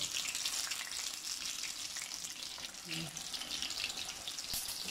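Rahu fish frying in oil after water has been sprinkled into the pan, giving a steady, moderately loud hiss and crackle that runs through the whole stretch with no talk.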